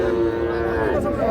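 A young calf at a busy cattle market lets out one drawn-out low moo, close and loud, over a murmur of background crowd noise.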